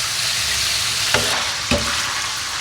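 Pork and pancetta mix sizzles loudly in a hot pan, a dense continuous frying hiss with two brief stirring scrapes, headed for a chili con carne.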